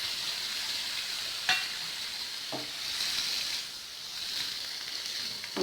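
Two chopped tomatoes sizzle in a pan with ginger garlic paste for paneer butter masala, a constant hiss broken by an occasional spoon scrape or clink, heard up close with no talk.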